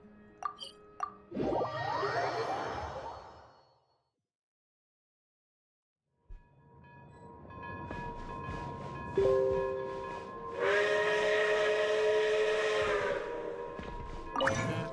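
A steam train whistle sounds in Genshin Impact, a long sustained tonal blast that swells loud after a short silence, with shorter whistling and plopping game effects near the start.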